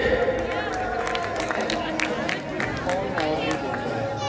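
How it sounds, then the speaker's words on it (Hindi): An audience at a Ramlila coronation and awards ceremony in Azadpur claps as gifts are handed over, with the applause mixed into crowd murmur and ongoing talk. "थोड़ी तालियां बजाइए।"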